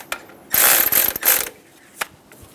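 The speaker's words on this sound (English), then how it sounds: "I'm going to snug down the 10mm bolt. This is what we're going to use to tension the belt." A ratchet wrench snugs down the 10mm tensioner bolt for the timing belt on a 1994-1997 Honda Accord 2.2L four-cylinder, giving a loud, close burst of rapid pawl clicking, then a second run and a lone click after a pause.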